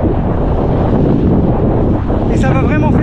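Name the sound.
strong wind blowing into the microphone while cycling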